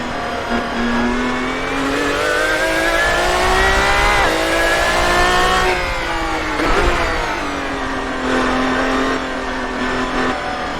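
Race Sim Studios LMP GT1 race car in a racing sim video game, its engine revving loudly and continuously while accelerating down a long straight, pitch climbing through the gears with brief dips at shifts.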